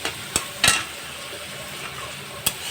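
A thick spice paste with coriander powder stir-fried for a light rohu fish curry, with a low hiss of frying punctuated by a few sharp clinks and scrapes of a spatula against the pan.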